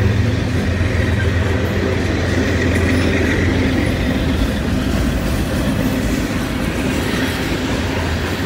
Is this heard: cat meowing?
no